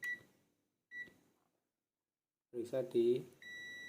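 Short electronic beeps from a multimeter on continuity mode while a four- or five-pin relay is tested, a few steady tones interrupted by silence, with someone speaking over part of it.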